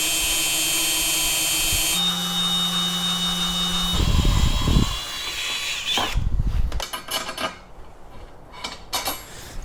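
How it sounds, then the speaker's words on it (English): A handheld power drill bores holes into a metal frame for a van rooftop air conditioner mount, a high whine with a steady tone before the motor pitch shifts, then irregular clanks and rattles of metal as the work continues. "I think I'm just going to use my normal drill instead"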